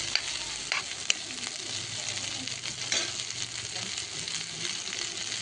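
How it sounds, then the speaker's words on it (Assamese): Omita (papaya) flower pieces frying in hot oil in a pan, giving a steady close sizzle and crackle with occasional sharper pops and a few stirring scrapes. "আজি ফ্ৰাই কৰি লোৱা হ'ব।"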